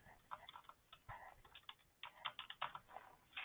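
Fingers type on a computer keyboard, a quick irregular run of light clicking keystrokes in short bursts, close but quiet, with no talk.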